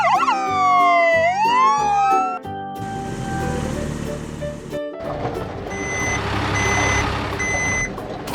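A white toy ambulance gives a loud electronic siren that wails up and down, then switches to a steady run of repeated high beeps over a busy background.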